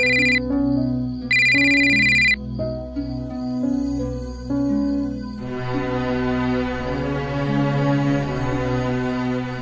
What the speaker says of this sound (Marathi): मला फोन येतो यांचा, मला हा फोन उचलायला हवा नाहीतर ते रागवतील.